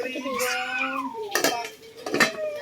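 A lid goes onto a cooking pot in a home kitchen with two short metallic clanks, close by, while a voice speaks and a cat-like wail sounds beforehand.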